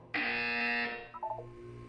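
A loud, steady electronic buzzer from the video game Portal 2 drones for about a second, then cuts off, followed by a few brief quieter tones.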